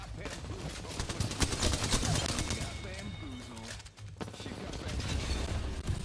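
Rapid automatic gunfire in the battle royale game Apex Legends, sustained rattling bursts with mechanical clatter, heard fairly quietly beneath excited talking from players.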